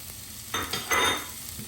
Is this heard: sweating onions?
yes